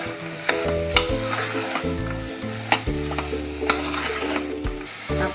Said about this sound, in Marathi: परतून घ्यायचं आहे तेलामध्ये मसाल्यामध्ये पूर्ण छान परतून घ्यायचं आहे सगळं